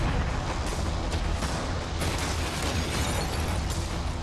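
Cannons fire at a yacht out on the water, producing loud, continuous booming and rumbling blasts that overlap into a dense roar with no clear pauses.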